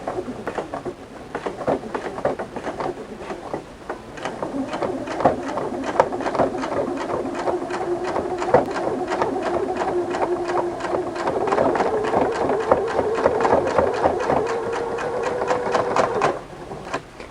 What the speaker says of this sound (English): just lower down your presser foot and begin to ruffle